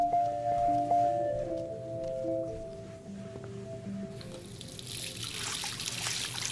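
Running water in the video game Life is Strange Remastered comes in partway as a broad, steady hiss that rises and continues to the end, following soft tonal game music.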